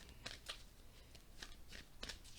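Tarot cards shuffled by hand, a series of soft, crisp riffling bursts repeating at irregular intervals, close and quiet.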